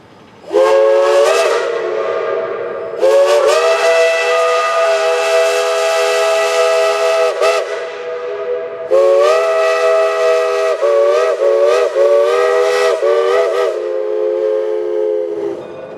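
Southern Railway steam whistle blown at 200 psi: three loud chime blasts, the first short, then two long sustained blasts with a brief dip between, rich harmonic tone, close and alone with no talk.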